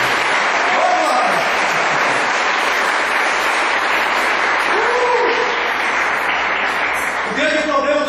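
A church congregation claps together in a sustained, even wave of applause, with a preacher's voice and bits of music showing through the noise.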